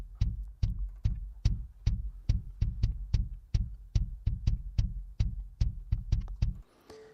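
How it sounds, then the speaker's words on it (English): Raw kick drum isolated from a 2008 concert recording in Mexico, a steady run of about twenty punchy low thumps in quick regular rhythm, loud and dry, ending abruptly. "the raw kick drum sounds like this."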